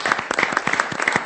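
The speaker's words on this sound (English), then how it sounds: "I think we should clap." A burst of applause from a group, dense and continuous clapping throughout.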